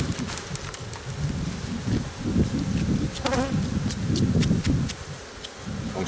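Honey bees buzzing around an open Layens beehive during a summer honey harvest, a dense close swarm drone with individual bees passing by and occasional rustling handling noises.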